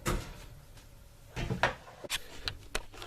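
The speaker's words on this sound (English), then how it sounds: "Now, open up the oven." A kitchen oven door opens with a few close clunks and a hinge rattle, followed by light knocking handling sounds, with no talking.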